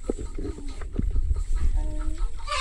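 A hen clucks in short, close bursts, some choppy squawks mixed with softer murmuring clucks, with light background noise.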